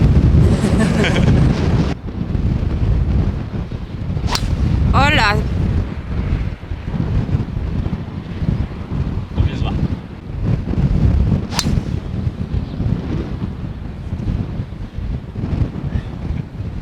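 Wind buffets the microphone in strong gusts on a golf course, with a couple of short exclamations and faint bird chirps in the background.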